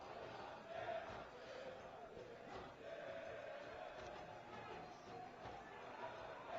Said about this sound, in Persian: صدای هواداری داماش رو میشنوید.